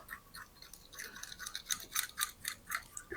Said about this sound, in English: we're gonna use a little baby fork from when my kids were little, and we're gonna whisk it up